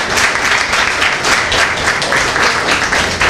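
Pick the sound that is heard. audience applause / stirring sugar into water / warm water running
audience applause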